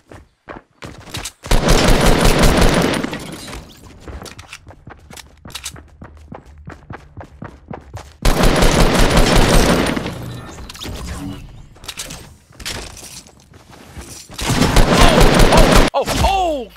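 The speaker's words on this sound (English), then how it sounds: "Heard a gun right behind me." Gunfire in the video game Fortnite, with loud bursts of rapid shots in three clusters separated by quieter stretches of scattered single shots and footsteps.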